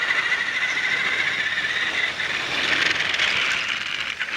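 A Trackmaster toy Thomas engine rolls through a model rail yard, giving a steady, close mechanical whir and rattle of a small motor with no talk over it.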